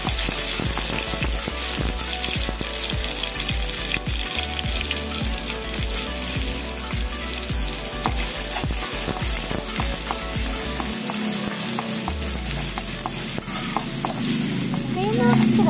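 Onion and garlic sizzle and crackle steadily in a pan for a creamy menudo, a dense frying hiss with occasional stirring clatter and no talk over it.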